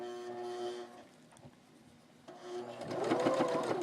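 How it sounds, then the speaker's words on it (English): A sewing machine stitching bias trim onto a doll skirt, a quiet steady motor hum that fades briefly, then speeds up into a louder, faster rhythmic whir near the end. "just lower your presser foot and start sewing"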